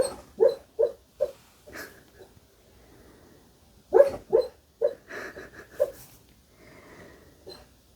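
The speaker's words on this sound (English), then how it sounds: "Oh, I have a dog dreaming. Do you hear her?" A sleeping dog, dreaming, makes soft muffled whimpers and breathy yips in short irregular clusters, close and quiet, with pauses of near silence between.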